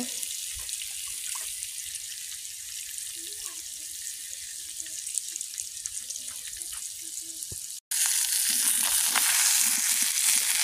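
A large fish fries in hot oil in a pan for village-style cooking, giving a dense, continuous hiss. It stays close and steady, briefly cuts out, then returns louder, with faint talking in the background.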